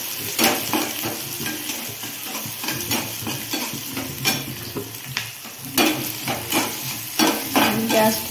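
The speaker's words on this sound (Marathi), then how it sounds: "नंतर कांदा टाकायचा, त्याला हलवून घ्यायचं।" Chopped onion frying and being stirred in a pan for dry potato sabzi, a steady sizzle broken by repeated scraping strokes of a spoon against the metal, close and fairly loud, with no talking.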